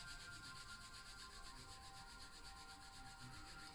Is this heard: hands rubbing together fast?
yes